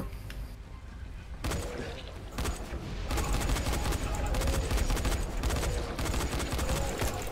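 Gunfire in the video game Dying Light: a dense, continuous stream of rapid shots that runs loud through the whole passage, with excited talk mixed in.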